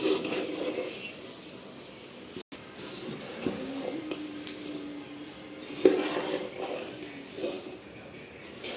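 Puffed rice (murmura) is stirred through a tempering in a pan for a mur mur fry, giving soft, fairly quiet scraping and rustling with a few light clinks of the spoon against the pan.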